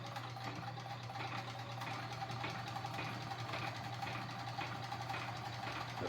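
Kenmore 148.19370 sewing machine running steadily as it stitches, a continuous close, even mechanical hum and rapid needle chatter with no pauses and no talk.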